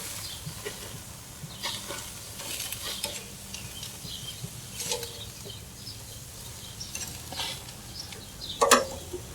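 Beef tenderloin and sirloin steaks sizzle on a grill, a steady crackling hiss that runs throughout with scattered sharper pops and a brief clatter near the end.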